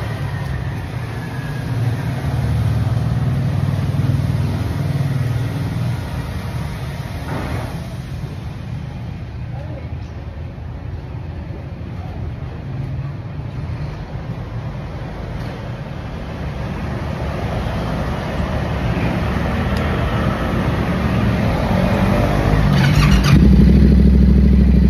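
Motorcycle engine running steadily through a test ride after a tire patch, a continuous loud low drone that swells toward the end as it accelerates, with wind rumble throughout.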